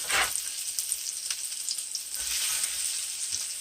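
Flounder and shrimp cakes frying in a pan, a steady close hiss and crackle of hot oil with a brief louder burst at the start and no talk.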